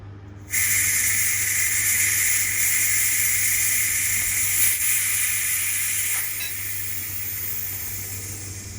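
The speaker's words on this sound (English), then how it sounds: "You can't just open the lid, it's a pressure cooker, so I'll let out the steam." A Pressure King Pro electric pressure cooker holding chickpea and spinach curry vents steam through its nozzle: a sudden loud, steady hiss starts after a brief silence and holds close up, easing slightly toward the end.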